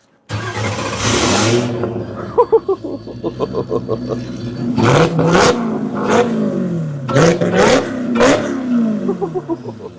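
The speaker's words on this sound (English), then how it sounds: "Listen to that V8. That sound is pure mechanical bliss." A V8 supercar engine, from a Capricorn 01 Zagato, revs hard in repeated sharp bursts, rising and falling pitch with loud crackling blips, close by and with no talking.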